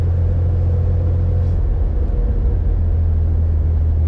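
A 1965 Chevrolet Corvair Monza convertible with a four-speed manual idles steadily, a loud, even low rumble held close throughout.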